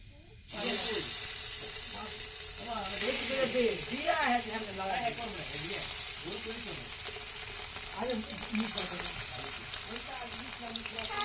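Fresh puti fish fry in hot oil with a constant, close, dense sizzle that runs throughout, while people talk over it.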